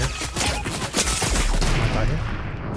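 Sniper gunshots in a battle royale video game ring out as a dense, loud volley of rapid cracks, with faint voices in the background.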